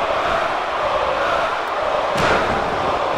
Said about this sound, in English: Again, the crowd is in favor of Goldust.